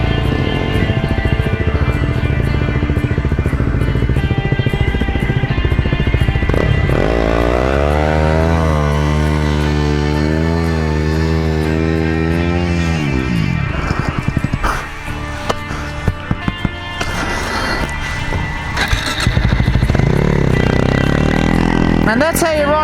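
Enduro dirt bikes, including KTM and Beta models, ride off through desert sand in Australia's Little Desert. Their loud engines rev and rise in pitch, then fade, while voices talk nearby throughout.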